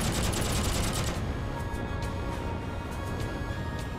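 Rapid cannon fire from a Yak-9 fighter plane during an aerial dogfight in the game Heroes and Generals, a loud dense burst that rattles on steadily for about a second before trailing into engine drone and scattered distant shots.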